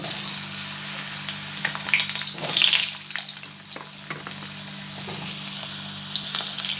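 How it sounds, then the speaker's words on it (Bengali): Long-cut sliced potatoes hit hot oil seasoned with dried red chilli and spices, giving a steady, close sizzle and frying crackle with occasional stirring scrapes. "আলু এরকম লম্বা লম্বা করে কেটে নিয়েছি আলুগুলো দিয়ে দিচ্ছি"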